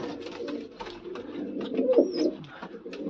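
Pigeons coo in low, throaty bursts close by, overlapping and repeating, with a brief higher chirp partway through.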